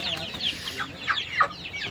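Tiger chickens on a farm cluck softly in a short run of close, overlapping calls, several quick bursts rising over a low background hum.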